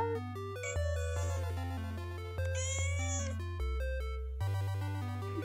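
A pet cat meows indoors, giving several drawn-out, tonal calls in close succession, near and fairly clear, with no talk over them.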